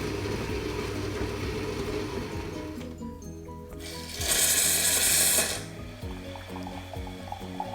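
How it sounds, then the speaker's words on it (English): A Bosch built-in coffee machine brews coffee with a steady mechanical pump hum and rhythmic rattling, then a brief loud hissing burst of steam or liquid dispensing, all close by and without talk. "I usually enjoy how this machine makes coffee."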